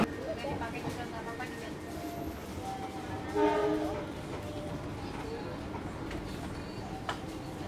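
The Kahuripan passenger train rumbles steadily along the rails in Indonesia, with a brief rising mechanical tone midway and faint voices in the background.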